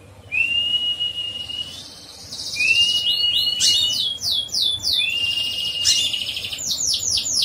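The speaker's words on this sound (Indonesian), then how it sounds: "Kalau burung jinak, otomatis kayak gini ya, juga bunyi, dipegang pasti bunyi." A tame pet bird, a konin, chirps and whistles up close while being handled: a rising whistle, then rapid sweeping tweets in repeated bursts, loud and lively against a quiet background.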